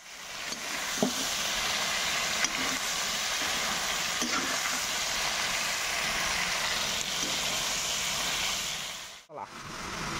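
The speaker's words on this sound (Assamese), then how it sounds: "এতিয়া মাংসটো ভাজি ল'ম।" Meat frying in oil in a pan, a steady crackling sizzle heard close up with a few brief clatters of stirring, continuing evenly throughout.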